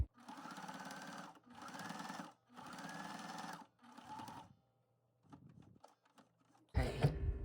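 A sewing machine stitches cotton fabric strips and batting into a jelly roll rug, running in four steady bursts with brief pauses, then quieter handling noises and a sharp clatter at the end.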